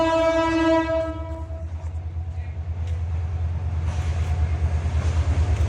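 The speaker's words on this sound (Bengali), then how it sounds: "লাওয়াশরীর মাঝখান দিয়ে যে ট্রেন যায় এই দৃশ্যটা আপনাদের আমি দেখাবো এখন" A loud train horn blares for about a second and a half, then a heavy train rumbles steadily past at close range through Lawachara National Park forest, its low roar continuing to the end.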